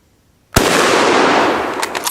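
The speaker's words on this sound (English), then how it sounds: "I just cocked this rifle, and I'm going to shoot it." A single loud, sharp gunshot from a German Mauser rifle fired outdoors, followed by a long rolling echo across the hills that slowly fades.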